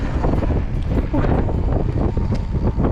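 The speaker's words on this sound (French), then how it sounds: "Il y a quand même pas mal de vent." Loud, steady wind buffeting the microphone with rumbling gusts throughout, over a faint background.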